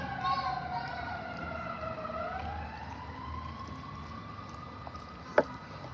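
A distant siren wails with a slow rising and falling tone, faint beneath a low background rumble, with a brief sharp knock near the end.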